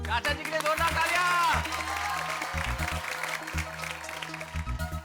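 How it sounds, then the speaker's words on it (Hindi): A crowd at a Gokuldham society function in Taarak Mehta Ka Ooltah Chashmah claps for Chacha ji, with a short burst of applause at the start that fades under someone talking with a rhythmic music beat. "चाचा जी के लिए जोरदार तालियां।"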